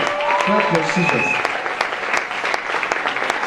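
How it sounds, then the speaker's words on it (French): A church congregation applauds with steady clapping while a voice and some singing carry over it throughout. "Acclame Jésus, acclame Jésus. Acclame Jésus."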